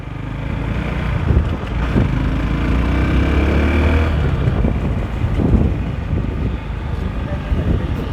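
A Runner Bolt motorcycle drones along while being ridden and gaining speed, its engine a low, steady rumble mixed with heavy wind buffeting, with a voice talking over it.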